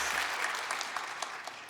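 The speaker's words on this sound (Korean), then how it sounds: "하나님께 영광의 박수 올려드리겠습니다" A church congregation at a Sunday worship service claps together in steady, full applause that fills the room throughout, with no one speaking over it.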